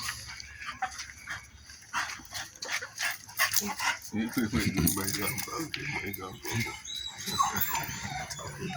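A dog yips, barks and whimpers in short excited bursts, fairly close, with a person talking over much of it.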